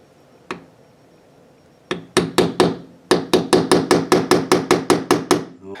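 One light tap, a pause, then a run of sharp metallic hammer strikes on a center punch, about a dozen in a steady rhythm, close and loud, marking a drilling point for a multi-point door lock.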